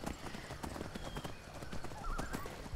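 Horse hooves clip-clop steadily in the video game Skyrim, a quick run of close, even hoofbeats with a brief whinny mixed in, heard alone without talk.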